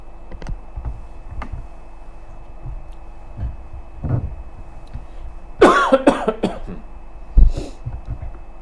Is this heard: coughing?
yes